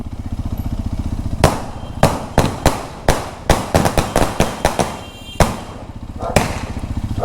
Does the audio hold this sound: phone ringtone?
no